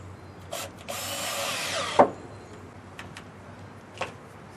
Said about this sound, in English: Just as tight as your drill can make it.